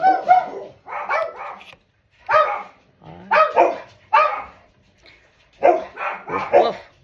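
A dog barks repeatedly in short, loud, close bursts, with uneven gaps between groups of barks.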